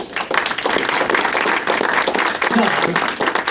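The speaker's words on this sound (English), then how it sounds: "I think we should all give Butch a round of applause." A round of applause at an organ donation community event, sustained crowd clapping throughout, with talk mixed in.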